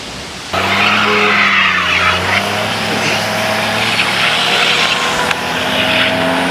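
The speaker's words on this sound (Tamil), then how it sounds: "வண்டி பயங்கர ஸ்கிட் ஆகுது வேறு." A car skids on a snowy road near Solang Valley in Manali, its engine droning loud and close with steady tire and slush noise throughout.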